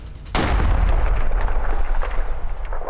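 Explosion at a bread factory in Kupiansk during a Russian strike: a sudden, heavy boom bursts in after a quiet start, followed by a sustained loud rumbling roar with crackling that carries on to the end, with no talk.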